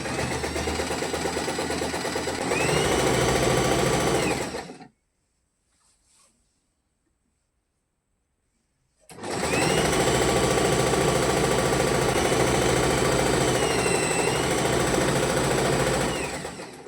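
A sewing machine stitching a pant seam with the presser foot down, a loud steady whirring run that stops for several seconds of near silence and then starts again at full speed.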